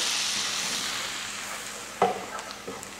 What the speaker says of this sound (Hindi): मैदे को हमने अच्छे से ना भूनना है बटर और ऑयल के साथ